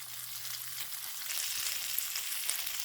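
Cheese frying in a nonstick pan, a continuous close sizzle with faint crackles and a brief low hum at the start.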